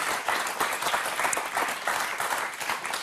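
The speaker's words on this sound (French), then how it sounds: "Céline et Caroline, on les applaudit 3 fois plus" Studio audience applauding on a French television game show, a dense, steady wash of many hands clapping at close range for about three seconds, with no speech over it.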